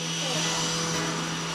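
A Gtech AirRam 3 (Mark III) cordless upright vacuum cleaner picks up debris from the floor with a steady, close motor whir and airflow rush that holds constant throughout.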